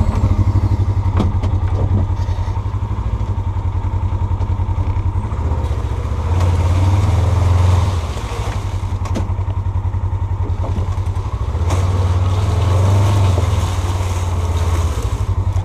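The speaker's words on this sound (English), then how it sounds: "Sometimes it's fun just taking a ride on the Ranger through the woods." A Ranger utility vehicle rides through the woods, its engine droning loud and steady with a low throb that swells and eases, plus occasional clatter and rattles.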